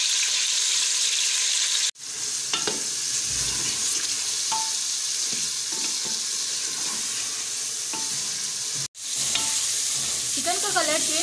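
One kilogram of chicken sizzling in a pan with ginger garlic paste for a spinach chicken curry, steady frying hiss with scraping stirs, briefly interrupted twice.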